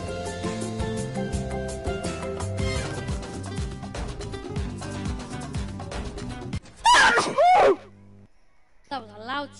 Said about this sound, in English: That was a loud sneeze.